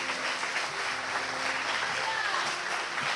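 Church congregation applauding during a Portuguese-language worship service, a steady wash of many hands clapping at a moderate distance, with a voice faintly mixed in.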